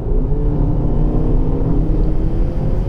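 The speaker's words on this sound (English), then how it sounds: "every now and then I hear a pleasant rumble from the exhaust" A steady, low exhaust rumble from a BMW X1 F48 xDrive25i drones continuously at a fairly loud level, with no talking.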